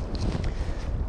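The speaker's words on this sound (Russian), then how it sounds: "Вот выгоняет меня ураганный ветер с водоема" Strong, gusty wind blows across a lake at a fishing spot, rumbling loudly against the microphone in a short, continuous burst with no talking.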